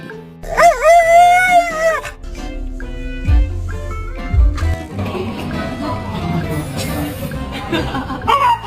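A pet dog howls in a drawn-out, husky-like wavering tone near the microphone, then breaks into whines and yips, while a person's voice and laughter come through behind it.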